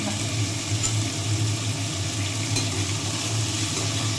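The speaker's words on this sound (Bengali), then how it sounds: "চিকেনগুলোকে ভেজে নেব" Small cut chicken pieces fry gently in a pan, a steady soft sizzle with a low continuous hum underneath and no talking.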